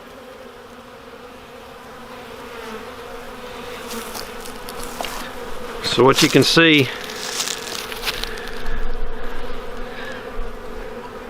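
Honey bees buzz inside a hive during a winter rescue of starving colonies, a steady hum that swells into a louder, closer burst of buzzing midway through, with a person talking over it.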